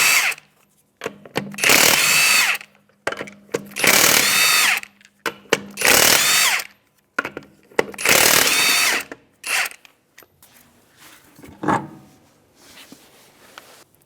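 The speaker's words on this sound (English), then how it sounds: "with a 22mm socket, we're going to take off our rear wheel." A power tool with a 22mm socket spins off the rear wheel nuts of a 2011 Honda Odyssey in four loud, roughly one-second bursts separated by pauses, followed by quieter clicks and handling noises.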